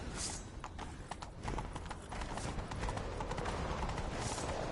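Rhythmic hoofbeats of a horse galloping in the game The Witcher 3, steady and close, with a brief whinny near the start and a dense game-style background beneath.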